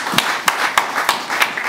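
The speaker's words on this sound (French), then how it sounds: "Acclamons pour la gloire de Dieu." A church congregation claps in a steady rhythm, about one sharp clap every third of a second, loud and close with a hum of crowd noise between beats.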